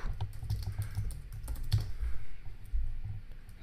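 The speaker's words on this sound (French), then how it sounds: "je tape sur entrée" Keys clatter on a computer keyboard, including the Enter key, as a run of quick, close, soft clicks with no talking.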